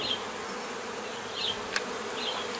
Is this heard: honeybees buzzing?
yes